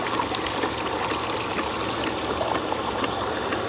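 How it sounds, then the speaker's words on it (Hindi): Water trickles and runs steadily and fairly close, a soft continuous stream slowing to a gentle flow while an animal is about to be bathed, with no voices. "अब पानी आहिस्ता आहिस्ता आ रहा है"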